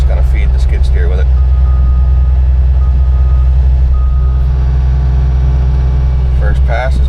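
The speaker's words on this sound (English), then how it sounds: "So we brought the new truck today. We're just going to feed the skid steer with it." A new truck feeding a skid steer at a paving site, its engine drumming loudly and steadily up close with heavy low rumble and brief higher chirps at the start and end.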